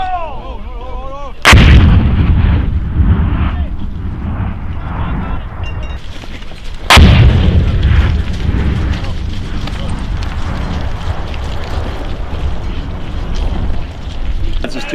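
Soldiers of Alpha Co. 1/23 fire weapons on Range 410A in heavy, booming volleys. Two very loud nearby blasts stand out above continuous rumbling gunfire and echo.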